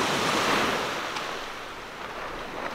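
Ocean waves wash onto a saltwater beach in a broad, close surf roar that eases slightly before building again, mixed with gusts of wind and no voices.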